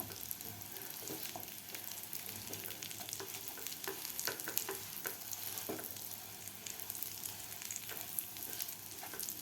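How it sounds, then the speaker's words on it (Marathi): Dates and cocoa powder being stirred and pressed in ghee over very low heat while making chocolate dry fruit laddu, a continuous quiet sizzle with frequent light scraping and clicking from the spoon. "आता हे तुपामध्ये व्यवस्थित आपल्याला खजूर आणि कोको पावडर मिक्स करून घ्यायचे आहे."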